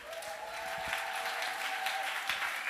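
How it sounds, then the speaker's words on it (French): A church congregation at an evangelical gathering applauds together, a steady, dense wash of many hands clapping that fills the space and holds at an even level throughout, with a faint sustained tone in the background. "Let's clap."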